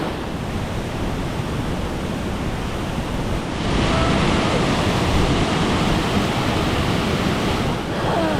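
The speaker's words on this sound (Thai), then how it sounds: "นี่คือน้ำตกดอยทุเลนะคะ" Doi Thule waterfall in a lush forest sends a constant broad roar of rushing water, loud and close, with the wash swelling slightly partway through and no talk over it.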